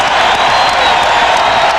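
Arena crowd at a 1993 NBA playoff game between the Bulls and Knicks, Eastern Conference Finals Game 3: a steady, dense roar of cheering and noise from a large crowd, loud and unbroken.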